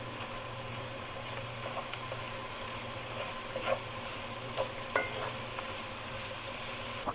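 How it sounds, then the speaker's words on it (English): Onions being stirred in a frying pan, a steady soft sizzle running throughout with a few light scrapes of the utensil, close and moderately loud, with no voices. "Give these onions a stir."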